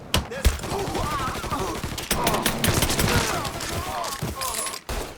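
Rapid bursts of gunfire from the Mafia 3 video game crackle through a tense shootout, with shouted voices and shots overlapping densely across the scene.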